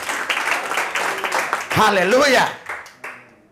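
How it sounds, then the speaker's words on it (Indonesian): Congregation at a church revival service in Jakarta clapping in scattered bursts beneath a man's loud, ringing exclamation, with the clapping fading toward the end. "Tepuk tangannya kenapa tanggung-tanggung."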